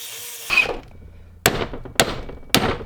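Sharp hammer blows, about four of them and growing quicker toward the end, pound a pin out of a BMW E30 steering coupler during an E36/E46 steering rack swap. Each strike rings briefly in a close, quiet workshop.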